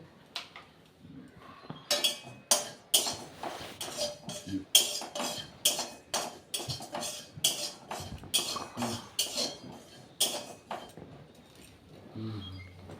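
A utensil scrapes and taps against a dry metal wok in quick, irregular strokes as cumin seeds dry-roast, the clinks fairly close and steady for several seconds.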